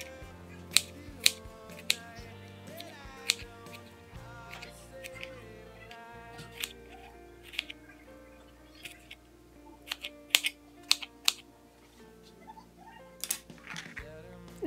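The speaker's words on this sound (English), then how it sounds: "Now I'm cutting it up really, really tiny, as I said to do before." A knife chops strawberries into tiny pieces on a board, giving sharp irregular taps and clicks over a quiet background with faint hum, close and fairly soft.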